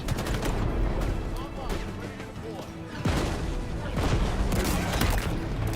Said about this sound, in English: Oh, that grenade was too early.